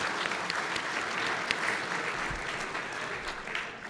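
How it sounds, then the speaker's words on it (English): An audience at a chamber of commerce awards dinner applauds, a dense, steady clapping from a sizeable crowd that carries on evenly and eases slightly near the end. "I think that deserves a round of applause right there"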